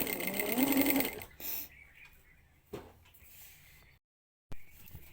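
A sewing machine stitches a fall onto a saree in a short, loud whirring burst at the start, followed by quieter handling noises, a brief pause and a soft thump.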